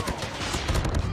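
Rapid automatic gunfire from a Call of Duty Mobile ranked match, a close, loud burst of clattering shots layered with game effects.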